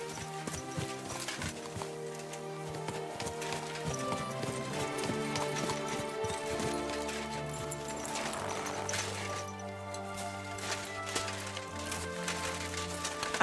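Horse hooves clip-clopping steadily during a ride in Kingdom Come: Deliverance II, a continuous rhythmic gait under a musical score with occasional snorts, close and fairly prominent throughout.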